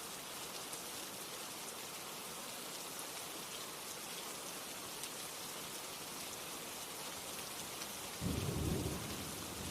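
Steady heavy rain with thunder during a nighttime storm, a continuous wash of rainfall throughout, with a deep rumble of thunder rolling in near the end.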